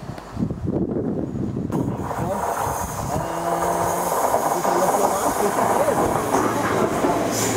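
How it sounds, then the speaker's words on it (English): A three-carriage passenger train in the West Midlands rolls by with rumbling wheels, rhythmic clacking and a faint squeal, loud and close, building to a steady roar. "This train has three carriages."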